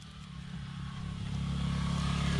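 A motorcycle engine hums close by, its low rumble building steadily as it revs up.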